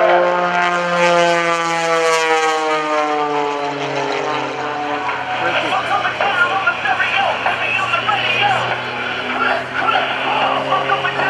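An extreme aerobatic propeller plane flown by Jason Newburg performs maneuvers at the 2014 NAS Oceana airshow. Its engine drone sweeps steadily downward in pitch, then settles into a loud, continuous roar that stays strong throughout.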